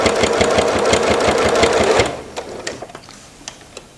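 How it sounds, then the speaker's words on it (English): A sewing machine stitches binding onto a quilt in a rapid, steady, close-up whir that stops abruptly halfway through, followed by a few light clicks and taps. "continue sewing up to that."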